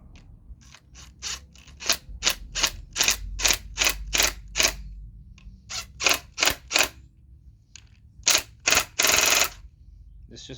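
An impact wrench tightens fasteners on a 2024 Honda CRF450 during a supermoto conversion, firing close, sharp hammering rattles in short bursts with brief pauses, ending in a longer burst.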